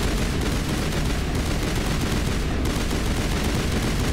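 Turret gunfire in the Mass Effect 1 video game, a dense continuous barrage of loud rapid shots that holds steady for the whole stretch with no talk.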